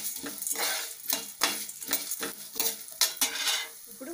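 Coriander seeds dry-roast in a pan, stirred with a utensil that scrapes and rattles in a quick, repeated rhythm, close and fairly quiet, with no voices.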